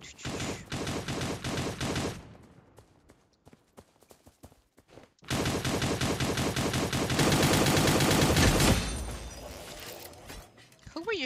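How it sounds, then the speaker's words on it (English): Rapid bursts of video game gunfire crackle loudly in two long volleys separated by a quieter gap, with rhythmic hoof-like clopping mixed in. "You were shooting at somebody."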